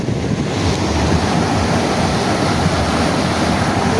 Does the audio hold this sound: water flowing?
yes